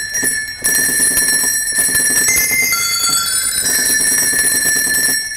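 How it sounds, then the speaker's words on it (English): Tuned sleigh bells on a Wurlitzer theatre organ jingle continuously as a bright, shimmering ringing with sustained high pitched tones, steady and fairly loud throughout with no talking. "These are the tuned sleigh bells."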